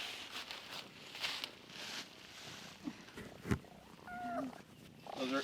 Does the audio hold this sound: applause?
no